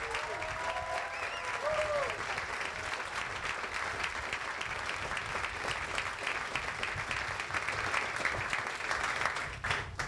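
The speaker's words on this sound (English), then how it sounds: "please, give the military training instructors a round of applause" A seated audience at a military change of command ceremony applauds the training instructors, a continuous wash of clapping that holds steady for about ten seconds, loud and close with a faint crowd murmur beneath.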